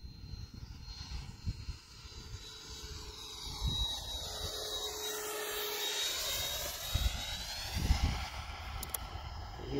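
A Freewing T-33 RC ducted-fan jet makes a slow pass with speed brake and full flap, its whooshing fan roar rising and falling as it passes by at moderate distance, with no voices.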